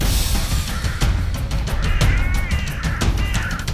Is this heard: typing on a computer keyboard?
no